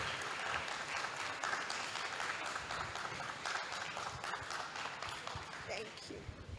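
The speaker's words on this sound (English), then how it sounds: "please, let's keep clapping." Audience applause at an African women's environment, health and safety conference, sustained even clapping throughout the stretch, heard from a distance and fairly faint.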